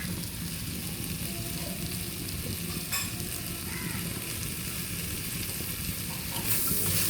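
Curry leaves hit hot oil for a Kottayam-style chicken curry, a loud, steady crackling sizzle close by that continues unbroken, with a faint clink partway through.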